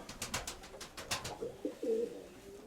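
Pigeons in a loft coo in a few low rolling phrases after a run of quick wing flaps or scuffling taps, close and fairly clear with no talk.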